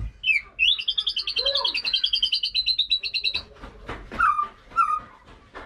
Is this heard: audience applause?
no